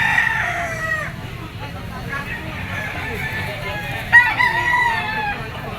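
Roosters crow among gamefowl at a busy pet market, with several drawn-out cock-a-doodle-doo calls from birds nearby. Clucking and a seller's continuous chatter run underneath.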